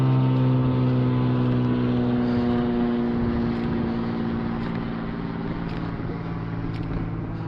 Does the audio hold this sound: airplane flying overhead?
yes